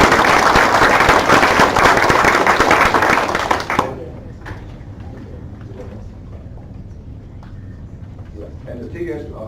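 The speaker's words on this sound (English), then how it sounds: "let's give them a round of applause." A board meeting audience gives loud, dense applause for about four seconds, then it cuts off abruptly into quiet room noise with scattered faint sounds and a voice.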